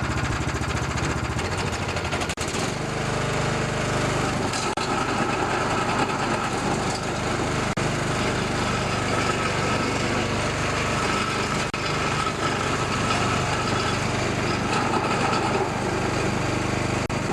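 A Craftsman snowblower's small engine runs steadily after a belt replacement, giving a loud, continuous droning hum with a slight rattle that holds for the whole stretch with no talking.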